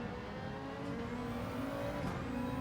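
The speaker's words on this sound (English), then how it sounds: "Listen to that Ferrari." A Ferrari race car engine in Gran Turismo 7, on the Sardegna circuit, makes a faint, steady whirring engine drone with slight rises in pitch, quiet and distant throughout.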